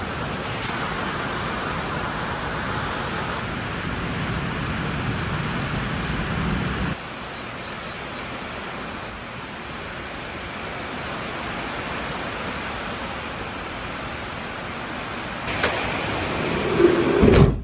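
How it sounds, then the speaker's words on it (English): Heavy rain drums steadily on a barn roof, heard from inside the barn, a dense loud wash of noise that eases slightly partway through, with a few brief knocks near the end. "It is raining so much out here right now. It is so loud inside the barn."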